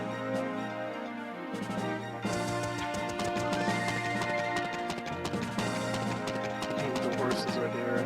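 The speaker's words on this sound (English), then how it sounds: "The horses are here." Horses trot with a steady clip-clop of hooves in the video game Tear Ring Saga, the rhythmic hoofbeats sitting under continuous game music for several seconds.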